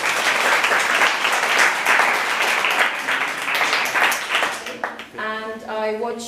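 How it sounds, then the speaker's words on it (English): An audience at a 2022 event in Estonia applauds an artist with steady, dense clapping that runs throughout, and at the end a voice briefly rises over the tail of the applause. "Let's make applause to her."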